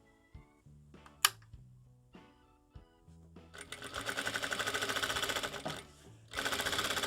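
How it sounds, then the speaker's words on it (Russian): A sewing machine stitches fabric pieces onto batting for an infant car seat insert, starting with a few short clicks and bursts, then running in fast rhythmic stitching runs that pause briefly and resume. "Теперь в край мы начинаем настрачивать наши детали примерно 3 миллиметра от края."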